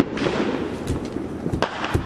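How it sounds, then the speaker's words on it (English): Distant fireworks pop and crackle during a 2017 solar eclipse totality, scattered muffled bursts over a steady outdoor hum of people and ambience. "There's fireworks over there."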